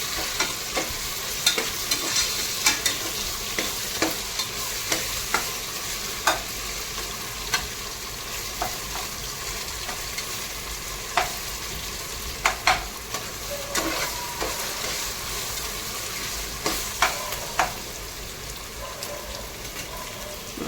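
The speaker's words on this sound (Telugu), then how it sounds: "మనం ఇప్పుడు ఆనియన్స్, మిర్చి, కరివేపాకు అండ్ అల్లం వెల్లుల్లి పేస్ట్ వేసి బాగా ఫ్రై అయ్యే వరకు ఉంచాం" Onions, green chillies, curry leaves and ginger-garlic paste frying steadily in a pan, a constant close sizzle with occasional sharp pops and stirring clicks throughout, no voices.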